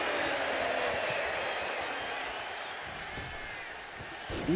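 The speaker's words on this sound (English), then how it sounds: "This crowd standing ovation for this match" Sustained crowd applause and cheering fills a wrestling arena in WWE 2K25 after a Rey Mysterio versus Penta match, a dense steady roar that fades slightly toward the end.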